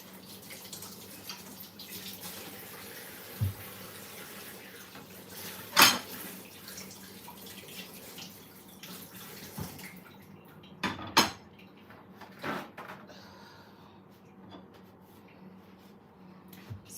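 A small loquat fruit is rinsed under a running kitchen tap: a steady rush of water for about ten seconds with a few sharp clinks of dishes, then quieter drips and handling after the flow stops.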